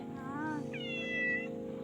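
The same cat makes two fairly soft meows in a row, the second higher and longer, over a faint steady background hum.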